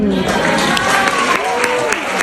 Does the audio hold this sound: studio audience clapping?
yes